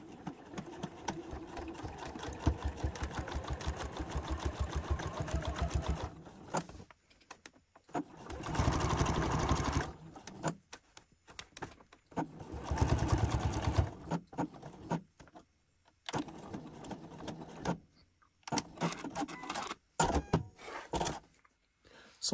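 Sewing machine basting a welt pocket, fast rhythmic needle chatter in several bursts, steady at first then stopping and starting, close and moderately loud.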